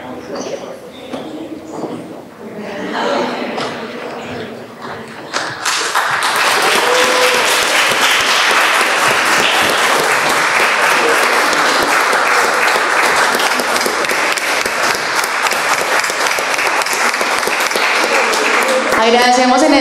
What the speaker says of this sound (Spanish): les demos un fuerte aplauso